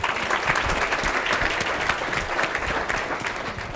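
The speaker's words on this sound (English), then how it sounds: "I want everybody to give themselves a round of applause for being here" Steady, dense applause from a large audience at a women-in-governance board event, continuous clapping with no break, no speech over it.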